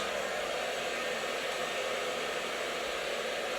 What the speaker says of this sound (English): Don't take your brush away, take the blow dryer away.